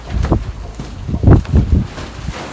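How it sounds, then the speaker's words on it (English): Strong outdoor wind buffets the microphone beside a charcoal-fueled anthracite forge, coming in loud, uneven low rumbling gusts that swell and fade over a couple of seconds with no speech. "That wind is freaking nasty."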